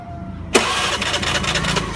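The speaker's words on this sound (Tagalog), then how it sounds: "So mao ni ang pag-check sa starter motor para may bawa nato kung condition pa ba." A starter motor on a bench check whirs into loud, steady cranking after a half-second of near silence, continuing close and unbroken to the end.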